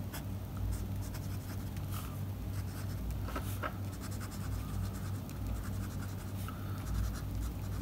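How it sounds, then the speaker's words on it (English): A Parker Frontier fountain pen with a medium nib scratching across paper, giving a steady close, soft scratchy writing texture over a constant low background hum, with no talking. "And now let's have a medium pen. Okay, for medium I have my Parker Frontier."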